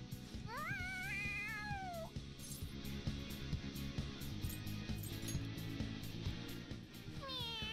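Morgana, the cat from Persona 5 Royal, lets out a rising, excited meow over steady game music, with a second shorter meow near the end.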